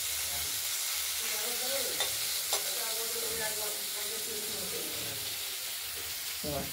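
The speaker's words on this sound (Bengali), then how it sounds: "শিমগুলো অনেকটাই ভাজা ভাজা হয়ে এসেছে" Flat beans sizzle in a hot pan while a utensil stirs them, with a few sharp scraping clicks over a constant frying hiss, close and fairly quiet.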